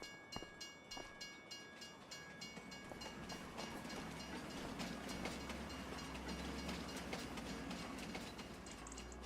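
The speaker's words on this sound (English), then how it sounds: "The train's coming!" A train passes in the video game Farming Simulator 25, a steady rumble with rhythmic clacking that builds and stays loud, with bright metallic tones and a horn-like tone above.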